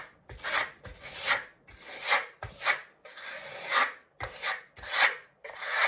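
A steel trowel scrapes Novacolor Marmorino KS, a fine-grit lime plaster, across a wall in repeated rhythmic strokes, each sweep a close, gritty rasp separated by short pauses.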